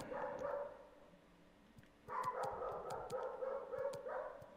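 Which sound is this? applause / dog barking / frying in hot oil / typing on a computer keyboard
dog barking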